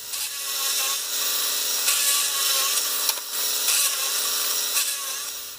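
A drill bores straight into wood for a lantern vise, grinding continuously at close range with a slightly wavering load and no pauses.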